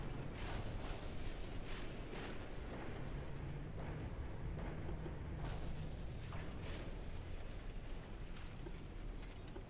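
Warships colliding in the naval game Ultimate Admiral: Dreadnoughts, heard as a dense, rumbling roar of heavy impacts and booming crashes, continuous and muffled, with no voices.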